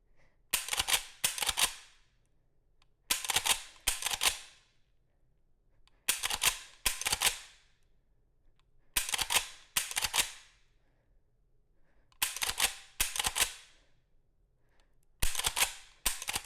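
Dry-fire practice with a lever action rifle: repeated metallic clacks of the lever being cycled and the trigger snapping, in tight clusters of two or three sharp clicks every few seconds, close and alone in a quiet room.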